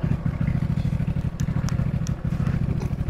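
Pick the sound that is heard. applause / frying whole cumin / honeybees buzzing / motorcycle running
motorcycle running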